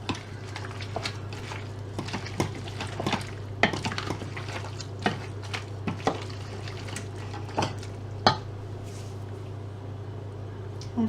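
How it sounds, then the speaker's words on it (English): A spoon stirs mustard, parmesan and chicken and ham pie filling in a bowl, with irregular soft scrapes and clinks against the dish over a steady low hum, close and quiet. "And then just give that a mix through."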